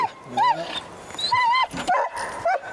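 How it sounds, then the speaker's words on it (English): Several dogs bark and yip close by, with high whimpering whines rising and falling between the barks in a restless, overlapping chorus. "Y'all don't have about 8 or 9 dogs."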